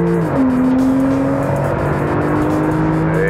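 A Porsche 991 Turbo with a 520-horsepower 3.8-litre turbocharged flat-six and PDK gearbox accelerates hard on a race track. The engine roars loudly and steadily as its pitch climbs through the gears, with no talking.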